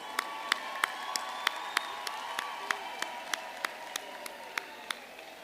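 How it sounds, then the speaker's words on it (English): A graduation crowd applauds steadily at the DUT Faculty of Management Sciences autumn ceremony, a soft continuous patter with sharp single claps popping out at a regular beat for about five seconds. "Let's give them a round of applause."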